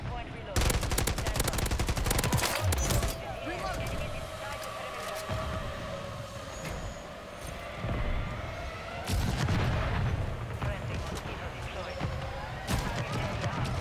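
MW3 video game gunfire with an SVA 545 rifle: rapid bursts of automatic fire and sharp shots crackle across the whole stretch, with brief pauses, loud and close under game effects.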